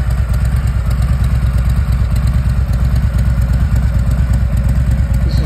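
A 2023 Harley-Davidson Softail Standard with an M8 engine runs steadily at idle, its loud low-pitched rumble pulsing evenly and closely throughout with no talk.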